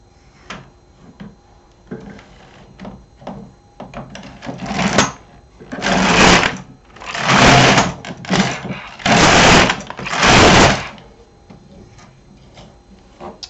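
An LK 150 knitting machine knitting rows, its carriage sliding across in five or six loud rasping passes, each lasting about a second, with quiet clicks between them.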